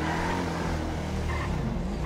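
A car engine roars loud and steady in a GTA 5 game, with a brief rising skid-like whine near the end and no talk.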